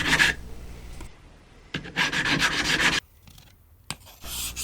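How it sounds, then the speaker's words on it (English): Sandpaper scrubbing rust off a steel chisel by hand, harsh rasping strokes in quick bursts with brief pauses between, close and fairly loud with no talk. "first I'm going to take off the rust with sandpaper"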